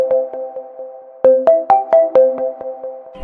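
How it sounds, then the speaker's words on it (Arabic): A mobile phone ringtone plays a loud, clear electronic melody of repeated bright tones, starting softly and then building into a run of strong, evenly spaced notes close by. "موبايلي رن"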